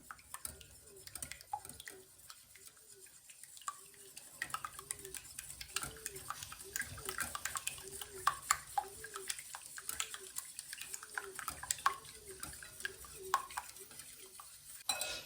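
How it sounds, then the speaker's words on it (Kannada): A whisk beats rhythmically against a bowl in quick, regular strokes, light clinks and sloshes of beaten egg for ragi cupcake batter repeating steadily up close. "ಇದನ್ನು ಸ್ವಲ್ಪ ಮಿಕ್ಸ್ ಮಾಡ್ಕೊಂಬಿಡೋಣ, ಒಂಚೂರು ವಿಸ್ಕ್ ಮಾಡ್ಕೊಳ್ಳೋಣ"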